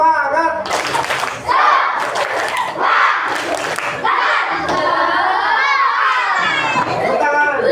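Schoolchildren in a fourth-grade classroom clap a spirited rhythmic cheer in unison, with bursts of clapping mixed with loud shouting and chanting voices, close and energetic throughout.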